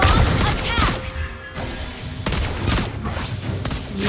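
Wanwan firing her crossbow in the mobile game Mobile Legends: a rapid string of sharp shot effects with crashing impacts and whooshes, loud and close, layered over busy battle sounds throughout.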